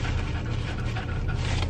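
A small pet dog pants rapidly and steadily at close range, a continuous breathy huffing with no voices over it.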